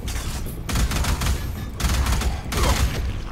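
Loud gunfire from a weapon in the shooter Alien Rage, heavy rapid bursts broken by short pauses, close and dense, with nobody speaking over it.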